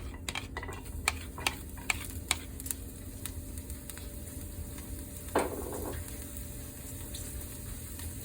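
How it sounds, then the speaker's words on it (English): Chopped garlic sizzles in olive oil in a pan, a steady low frying hiss with a few sharp ticks and a brief stir partway through. "So I'm going to add some olive oil again to the pan."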